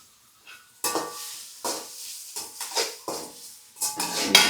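Vegetables being stirred and sautéed in a pan for veg rice, with about six distinct scraping strokes of a spoon against the metal over a soft sizzle, close up and without talk.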